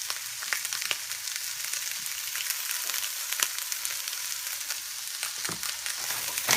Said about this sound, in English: It's been sauteing for about 3 minutes, 3 to 4 minutes on a medium heat.